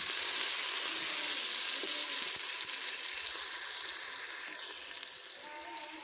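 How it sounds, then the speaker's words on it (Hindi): Onions browning in a pan for a home-cooked chicken-feet dish, giving a steady, close, broadband sizzle that runs continuously and fades slightly toward the end, with no one speaking. "प्याज को हम ब्राउन कर लेंगे।"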